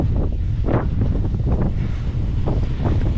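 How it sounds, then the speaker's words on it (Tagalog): Strong wind roars steadily across an open rice paddy field, buffeting the microphone with dense, continuous low rumbling and rising gusts, with no voices. "Sabihin, lakas yung hangin."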